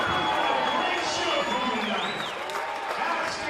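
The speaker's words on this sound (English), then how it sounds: "And the crowd giving their appreciation to both sides." Crowd cheering and applauding at a college volleyball match between West Texas A&M and Cameron, a broad steady roar in a gym with squeaks and scattered shouts mixed in.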